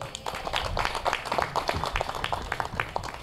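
An audience at a 2013 SPSFA tournament opening ceremony claps in steady, moderate applause, a dense patter of hands with some faint murmuring mixed in.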